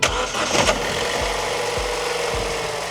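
A Sprinter van engine cranks briefly on a portable jump starter, then catches and settles into a loud, even idle with a rhythmic low chug, close up.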